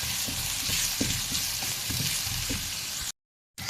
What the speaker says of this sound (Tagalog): Lalagay na rin natin yung ating onion. Gisa-gisa natin guys hanggang sa medyo mag